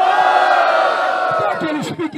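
A large crowd at a rap battle roars and cheers with overlapping shouts, loud and sustained, fading slightly at the end as scattered voices rise.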